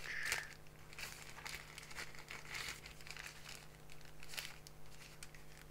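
Plastic pouch packed with an AJAZZ AK873 TKL keyboard's accessories crinkles and rustles as it is searched, a quiet, steady run of crackly handling noise with a few sharper crunches, no talking.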